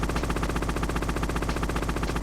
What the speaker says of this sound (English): he's gonna do a missile barrage